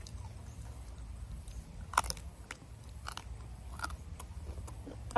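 Crunchy spicy octopus salad being eaten close to the mic, with scattered crisp bites and soft chewing crackles in an irregular rhythm over a quiet background.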